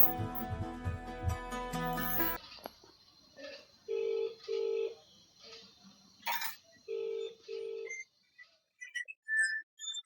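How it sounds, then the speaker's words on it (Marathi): A phone is dialled and rings, starting with a rapid burst of keypad tones, followed by repeated paired ringback tones and a few scattered higher beeps, fairly faint. "थांबा मी फोन लावते."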